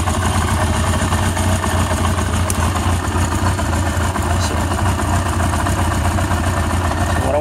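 A 1981 Honda CB750K motorcycle engine idles steadily and close by, a continuous low rumble with an even, unbroken loudness and no voices over it.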